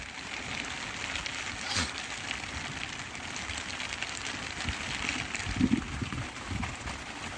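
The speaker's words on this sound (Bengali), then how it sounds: "তো প্রচুর বৃষ্টি হচ্ছে আজ।" Steady heavy downpour in the Sundarbans forest, a continuous near hiss of rain striking water and surfaces with scattered louder splashes and thuds.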